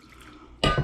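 Warm water splashes loudly into a mixing bowl near the end, a short burst of pouring and sloshing after a quiet lead-in.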